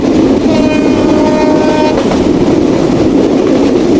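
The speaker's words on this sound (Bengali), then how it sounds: "দুর্দান্ত গতিতে আমাদের ট্রেন" Madhumati Express train running fast on the line from Rajshahi, a loud steady rumble and rattle of wheels and carriages close by, with a brief high whistle-like tone early on, and no voices.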